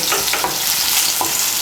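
Large crushed garlic cloves sizzle loudly in hot oil while being fried red for a Bengali radish greens dish, a close, continuous hiss broken by a few soft stirring scrapes.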